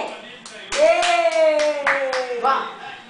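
Family members clap to encourage a child taking first steps, several distinct claps spaced through the moment under a prominent voice talking.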